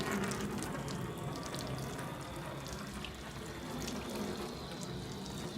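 Water sprays steadily from a hose onto a Toyota Fortuner during a car wash, a constant close hiss with no pauses.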